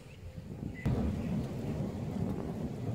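A thunderstorm over a private fishing pond in Giurgiu county, Romania: a sharp crack of thunder breaks in and rolls on as a deep rumble beneath steady, close rainfall.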